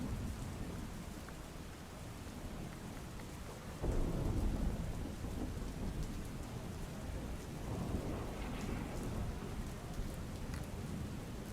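Heavy rain pours steadily in a street off Radhanpur Road in Mehsana, with thunder rumbling low and swelling midway, a dense, continuous wash of sound with no voices.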